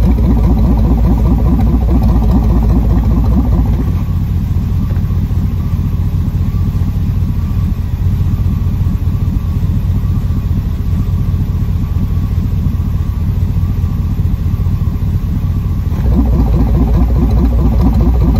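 A Pontiac Firebird with a 5.3 LS engine swap and glass pack mufflers runs close and loud. Its steady, throaty idle rumble carries through the whole stretch, and the tone shifts slightly a few seconds in and again near the end.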